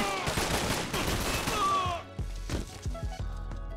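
Gunfire in the 50 Cent: Bulletproof video game: a dense, loud volley of rapid shots that gives way to a few separate heavy blasts and impacts over a low rumble.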